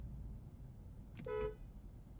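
A single short car horn honk from a 2023 BMW M850i Gran Coupe, fairly close, sounding once for about a quarter second over a low background rumble.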